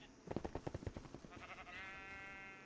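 A sheep in the Minecraft video game bleats in a quick stuttering burst of wavering pulses, followed by a sustained tonal bleat, close and moderately loud with no talking.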